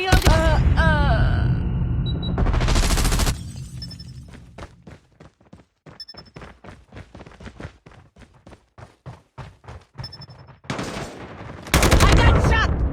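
Pistol fire in a video game: sharp shot bursts open and close the stretch, separated by a run of rapid clicking reports, all close and loud.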